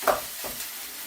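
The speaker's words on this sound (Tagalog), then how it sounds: "Hahaluin na natin." A spatula scrapes and stirs fried rice with carrots in a hot pan, giving a brief scraping stroke over a steady low sizzle, close up with no voices.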